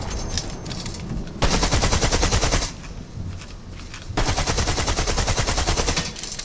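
Rapid automatic gunfire in a Marvel video game rattles in two long bursts separated by a short lull, dense and loud.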